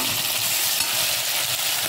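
Ground onion paste hits hot oil in a pan for a prawn dry gravy, giving a steady, close, loud frying hiss that holds evenly throughout with no talk.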